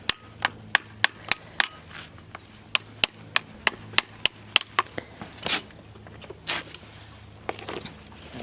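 Hammer tapping down horseshoe nails on a horse's club foot during a farrier's shoeing, about fifteen sharp, close strikes in a steady rhythm, followed by a few softer scuffs.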